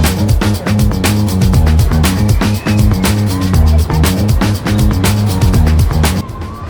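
Loud, continuous rumbling and rattling of the Gemini roller coaster at Cedar Point, with a rhythmic clatter of wheels over track joints running throughout, a steady roar that drops off briefly near the end.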